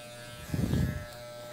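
An electric hair clipper shaving up the side of a man's head during an undercut haircut, a faint steady buzz that swells louder for about half a second as the blades pass through hair.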